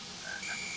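A frog croaks inside the video game Gorilla Tag, a short, close, rising call standing alone over a steady hiss of background noise.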